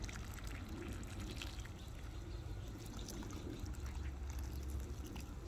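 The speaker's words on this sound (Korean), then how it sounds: "뜨거운 물을 부어줍니다." Hot water pours in a steady, faint trickle that runs unbroken for several seconds, with no voices over it.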